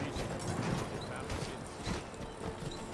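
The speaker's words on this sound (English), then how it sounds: "That's a horse." A horse's hooves clip-clop in Skyrim, a steady rhythm of soft hoof beats under constant game ambience and background noise.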